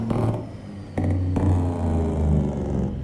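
Trucks rumble in a convoy in American Truck Simulator, a steady low engine drone with sharp clicks and shifts at intervals, loud and continuous with no talk.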